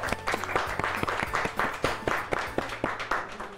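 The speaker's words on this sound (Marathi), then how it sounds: "आजीसाठी जोरदार टाळ्या" Lively applause for a grandmother fills a studio audience setting with dense, rhythmic hand clapping, steady and fairly loud throughout.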